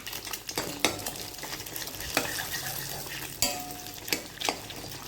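Egg and leftover idiyappam frying in a pan while being stirred, close sizzling with repeated scraping and clinks of a metal spatula against the pan, no talk.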